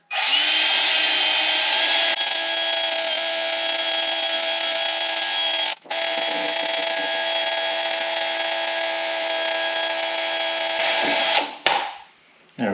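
A power tool cleans the intake gasket mating surfaces on a Subaru Forester EJ25 engine, giving a loud, steady high whine that runs close for about eleven seconds, with one brief dip midway, before winding down.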